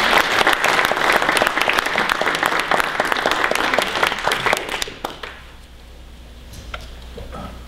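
A lecture audience claps in warm welcome for a speaker on Puritans, Rationalists and the Presbyterian Church, a dense burst of applause that fades out after about five seconds into quiet room tone.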